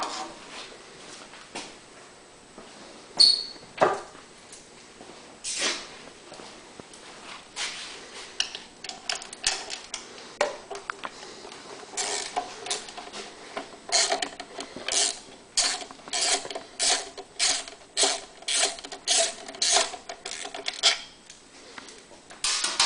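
Ratchet wrench backing out the two ignition coil mounting bolts on a Honda EU2000iS generator, a run of quick clicking bursts that grows denser and louder toward the end, close up with no talk.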